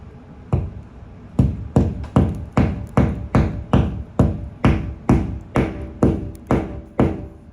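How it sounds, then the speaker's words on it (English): Close, loud hammer taps strike a Metalux 4 ft LED garage light fixture in an even series of about a dozen hits, each with a short ringing decay, and no talking. "Sometimes you gotta tap them with a hammer."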